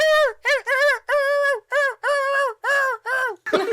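Person imitating a small dog yipping up at bigger dogs: a string of about nine short, high, nasal yelps in a quick uneven rhythm, close and loud, ending with a breathy rasp.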